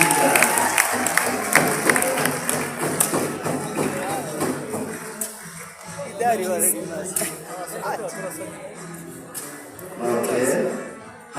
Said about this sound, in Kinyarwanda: Abantu bongere bakoma amashyi menshi cyane.